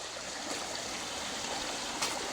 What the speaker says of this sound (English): Water's been running for